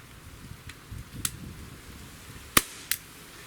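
A Glock 17 Gen5 pistol cracks sharply outdoors, one loud shot followed by a second, fainter pop, over low wind-like background noise.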